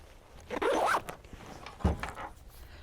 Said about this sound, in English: Zip it up.